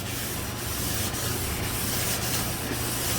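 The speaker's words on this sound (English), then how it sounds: "And we start sanding by hand." Steady hand sanding on metal sprayed with WD-40, a continuous gritty rasp with regular back-and-forth strokes about twice a second, close and loud.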